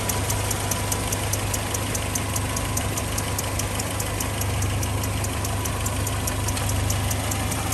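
A 1971 Land Rover Lightweight engine idles steadily, warm, with a low, even rumble and a faint, regular ticking from the exhaust on top; no one speaks.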